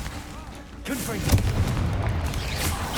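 A Confringo spell blast from Hogwarts Legacy, a booming burst with a rumbling low tail, rising out of busy background game noise and cast amid other combat effects.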